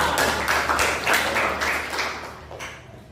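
Classroom applause from students during a Quran recitation lesson: a short burst of close, uneven hand clapping that swells briefly, then thins and fades within a few seconds.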